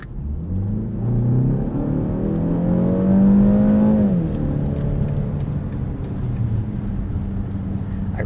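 A 2023 BMW X1 xDrive28i in sport mode accelerates hard, its engine note rising steadily in pitch over several seconds, then easing back to a lower steady drone as the interior road rumble continues.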